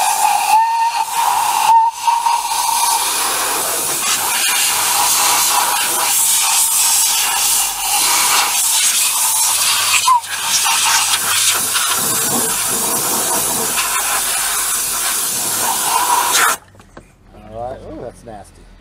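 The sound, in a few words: compressed air blowing debris off engine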